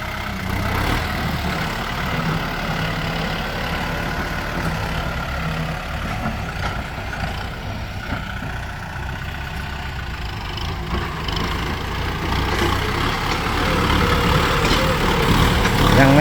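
A tractor runs while being driven, its engine giving a steady low rumble close by that swells slightly toward the end, with no voices over it.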